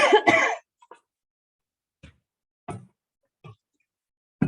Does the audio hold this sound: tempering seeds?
no